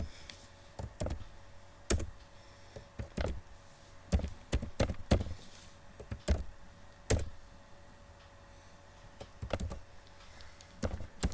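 Someone typing code on a computer keyboard, with scattered clicks and bursts of keystrokes spaced by short pauses, close and fairly quiet with no talking.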